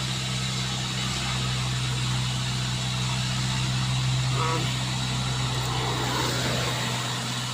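A heavily loaded Fuso truck carrying 10 tons climbs a steep road, its engine droning and straining steadily and close by throughout, with a strong low hum that never lets up.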